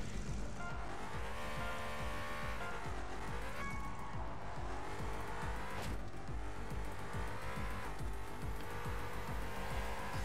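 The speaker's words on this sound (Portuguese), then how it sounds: "É uma Bugatti, galera. É uma Bugatti." Engine of a Bugatti in a racing video game, revving and rising through gears with repeated shifts, tire squeals and skids, loud and continuous without talk.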